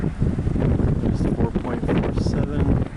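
Wind gusts steadily around a spinning Yin Yang vertical axis wind turbine outdoors, a continuous loud rushing buffet that sounds close to the microphone across the whole stretch, with no speech over it.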